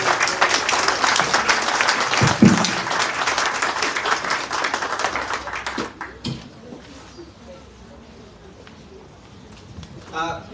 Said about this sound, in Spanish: Démosle un aplauso para que se animen los hermanos.